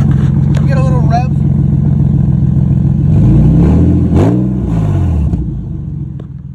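An Infiniti G35 fitted with a Magnaflow exhaust idles with a loud, deep rumble close by, then revs up sharply twice in quick succession before settling back; a voice is briefly heard early on.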